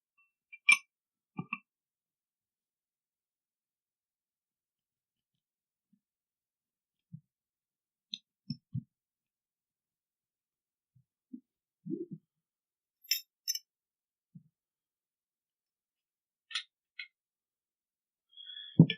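Metal rifle parts of a CZ and a Scar 16 being fitted back together: sparse, sharp clicks and small clinks scattered across a quiet room, some in quick pairs, with long silent gaps between.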